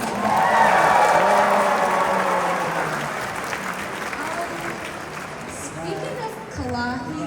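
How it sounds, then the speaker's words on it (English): Audience applause and cheering at a Kapwa Loyola Battle of the Bands 2026 performance, loud at first and gradually thinning out while a host talks over it. "Why don't we give them one more round of applause?"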